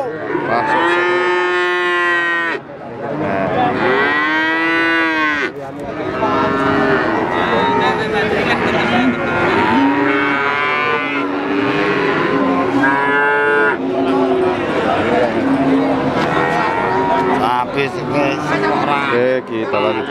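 Cattle at a breeding-cattle market moo over and over, loud and close, with several calls overlapping almost without pause above a constant busy background.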